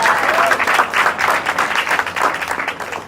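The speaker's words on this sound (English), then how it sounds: "round of applause for the Jersey table." Wedding guests break into a loud round of applause, dense clapping that swells and fades in waves for a few seconds with a few voices mixed in.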